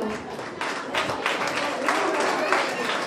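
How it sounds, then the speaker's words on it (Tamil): An audience at a children's achievement event claps together, a dense, continuous wash of hands beating that stays fairly loud and even, while a voice carries over the top. "நல்லா கைத்தட்டுங்க"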